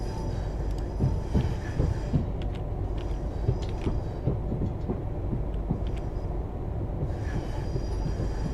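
ScotRail Class 380 electric train running out of Glasgow in Train Sim World, heard as a muffled from-outside rumble with rhythmic wheel clatter over the rail joints and a steady rolling drone throughout.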